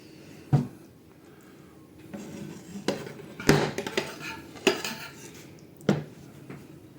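A big metal spoon scrapes and clanks against a pan while scooping up sauce and mushrooms for a bacon and mushroom baguette. About six distinct knocks come at irregular intervals over a faint background.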